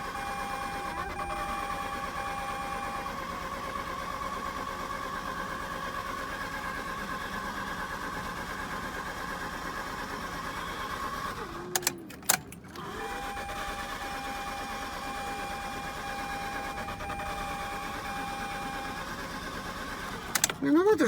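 Mazda RX-8 rotary engine running steadily with a persistent high whining squeal over its drone, loud and close, briefly interrupted by a few sharp clicks partway through.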